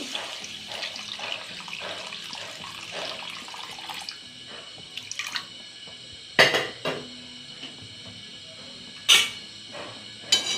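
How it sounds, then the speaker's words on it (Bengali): Water pouring into a pan of spiced tangra fish curry in a home kitchen, a steady splashing stream at first, followed by sharp clanks of utensils against metal cookware, no voices. "দেখুন এগুলোকে আমার কষানো হয়ে গেছে। জল দিয়ে দেবো।"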